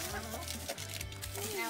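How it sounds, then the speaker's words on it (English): A small flock of newly arrived backyard chickens clucks softly in the background, with short repeated clucks under steady outdoor noise and people talking nearby. "New chickens, Daddy. Those are pretty cool."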